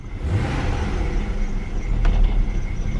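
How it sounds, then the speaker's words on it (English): A tuned car's supercharged engine runs with a thick low rumble and a thin steady whine above it, close and continuous, with a brief mechanical rattle partway through. "Oh, listen to that supercharger whine."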